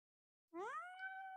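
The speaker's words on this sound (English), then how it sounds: "You're a handsome kitty." A cat gives one drawn-out meow that rises in pitch and then holds steady, heard close and fairly clear after a moment of silence.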